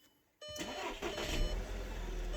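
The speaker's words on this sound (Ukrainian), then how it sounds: "Все, машинка завелась, ключик безключовий працює." A 2013 Volkswagen Tiguan, started with a keyless push button, cranks and catches after a short quiet moment, then settles into a steady idle close by.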